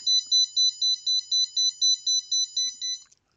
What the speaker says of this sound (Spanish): la alarma salta